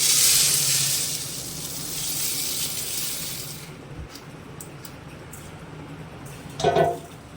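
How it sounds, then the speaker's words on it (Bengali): Rice is poured into a hot pot for spicy pulao and sets off a loud, hissing sizzle that gradually dies down to a quieter simmer, with a brief metallic clink near the end. "এবার চালটাকে ঢেলে দিলাম।"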